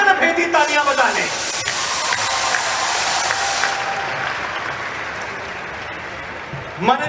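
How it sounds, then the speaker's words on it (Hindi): Loud, thunderous applause from a large audience at a public gathering, swelling right after a speaker's voice and holding steady as a broad wash of clapping before the voice returns at the end. "मैं चाहता हूं एक बार अपने अभिनंदन में गगन भेदी तालियां बजा लें।"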